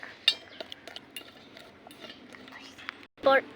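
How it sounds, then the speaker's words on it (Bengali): Food being stirred in a cooking pan, with close, irregular metallic clinks and scrapes of a utensil against the pan over a low background, ending in a louder clatter. "এখন একটু নেড়ে চেড়ে নিব"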